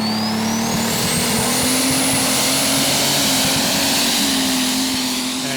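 A methanol-fuelled pulling tractor with four turbochargers roars loud and close through a full pull at a 2016 Eurocup tractor pulling event in Brande, Denmark, its high turbo whine climbing steadily over a dense, unbroken engine blast.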